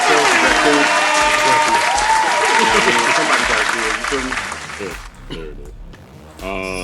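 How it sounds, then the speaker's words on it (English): A studio audience at a live radio show applauds loudly and steadily, dense clapping filling the room with voices mixed in, then fading and breaking off near the end. "Let's give him another round of applause."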